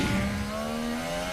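Formula 1 cars at the 2019 Hungarian Grand Prix accelerate hard out of a corner, a sustained engine whine rising in pitch, loud and fairly close throughout with no talk.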